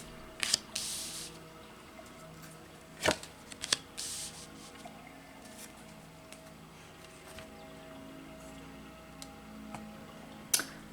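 Tarot cards are dealt out into piles, giving quiet, scattered card slaps and soft shuffling clicks at irregular moments against a hushed, near-silent room.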